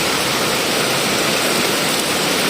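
Heavy typhoon rain pours steadily during Super Typhoon Yagi in Macau, a dense, loud, unbroken hiss of water with no pauses.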